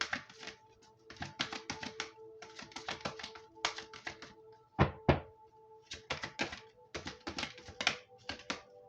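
A deck of oracle cards is shuffled by hand, giving rapid crisp riffling clicks in repeated short bursts with brief pauses between them, close and clear with no talking.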